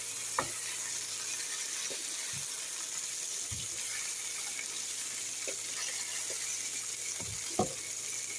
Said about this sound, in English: It's sizzling, it smells good.